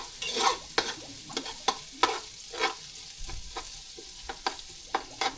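Field frog pieces frying in oil with ginger in a pan, a steady sizzle broken by repeated scraping stir strokes of a spatula, close and moderately loud with no talking.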